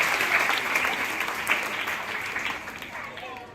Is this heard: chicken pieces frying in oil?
no